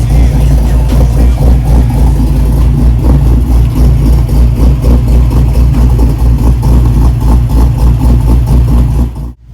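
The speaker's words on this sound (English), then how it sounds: "check out the idle on this thing, how it returns the idle" A 351 Windsor V8 with a five-speed idles with a choppy, loping cam, a loud, close, steady rumble with rhythmic uneven pulses that cuts off at the very end.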